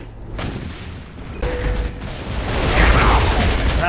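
Lancer rifle fire in Gears of War 3 crackles as a dense, steady rattle of gunshots in a chaotic online match, growing louder toward the end with no voices.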